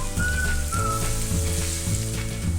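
Garlic and onion sauté in a pan for a tofu and pork dish, a dense loud sizzle over a low steady hum, with a faint high whistle-like tone briefly on top.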